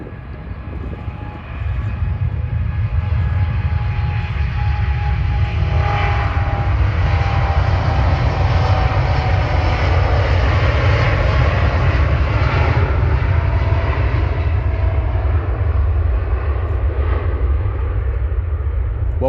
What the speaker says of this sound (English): This is Manchester Airport over at their aviation viewing park.